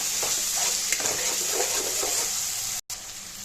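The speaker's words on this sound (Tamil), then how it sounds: "இதையும் எண்ணெயிலே சேர்த்து நல்லா பச்சை வாசனை போகிற அளவுக்கு வதக்கி விட்டுக்கலாம்" Ginger garlic paste sautéing in hot oil for pepper chicken, a dense steady sizzle with light stirring scrapes, close and loud, cutting out briefly near the end, with no one speaking.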